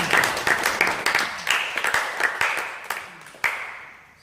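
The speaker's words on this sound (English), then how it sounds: "Lift a clap offering to Jesus." A church congregation gives a burst of clapping after a sermon, loud and close at first, then thinning into scattered, uneven claps that trail off.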